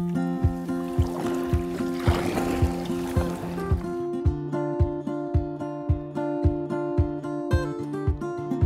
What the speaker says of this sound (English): I'm going to keep paddling.